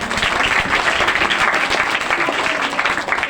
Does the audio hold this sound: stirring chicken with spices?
no